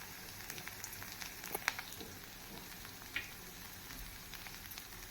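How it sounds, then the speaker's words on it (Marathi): Roasted masala, coriander powder, turmeric and garam masala sauté in oil for an oyster masala, making a faint, steady crackle and sizzle with a few sharp pops and light stirring ticks. No voices. "सर्व साहित्य तेलावर परतून घेऊया"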